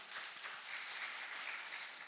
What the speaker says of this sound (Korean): 우리 이 조장님들을 향해서 박수 한번 치도록 하겠습니다.